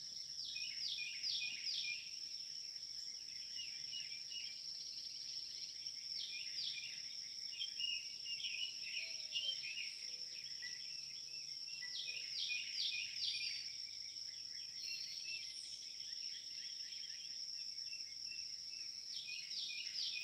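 Early-morning birdsong outdoors at sunrise, repeated bright chirping trills in bursts over a constant high insect drone, faint and somewhat distant, with no talking.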